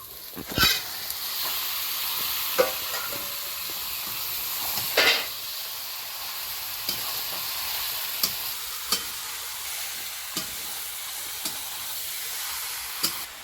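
Meat sizzles and fries in hot oil in a pan, a steady bright hiss broken by sharp scraping stirs and occasional spattering pops, close and continuous.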